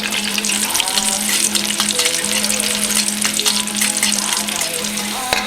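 Garlic cloves with skin on frying in hot oil, a loud, dense and continuous sizzle close by that holds steady throughout without any talk.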